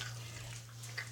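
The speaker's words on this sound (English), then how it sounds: "I'm pouring the soap on the table" Liquid soap runs out onto a tabletop in a soft, steady wash of sound with a low hum underneath, faint and close throughout.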